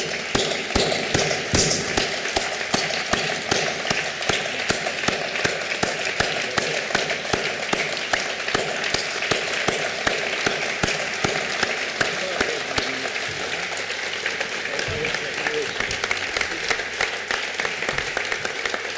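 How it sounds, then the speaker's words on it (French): Sustained applause from a large audience standing to clap at an architects' union congress, a dense, steady wash of many hands lasting the whole stretch at fairly even loudness, with no talk over it. "Et je vous demande de vous lever pour les applaudir."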